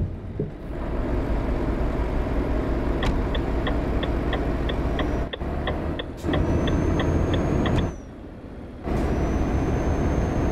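Renault T Range truck engine in Euro Truck Simulator 2 runs with a steady loud drone, and brief air-brake hisses and gear cuts break it, along with a regular ticking of the turn indicator over the top.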